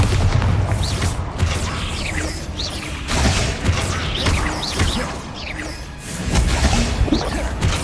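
Magical blasts from the Bombarda spell in Hogwarts Legacy burst repeatedly as booming crashes with whooshes and debris, loud and dense, with brief voices mixed in.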